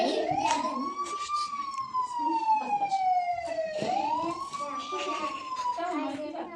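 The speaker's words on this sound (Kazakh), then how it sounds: "Ой, міне тез асығып келе жатыр жедел жәрдеміміз." An ambulance siren wails in long rising and falling sweeps, loud and continuous, with faint background sounds beneath it.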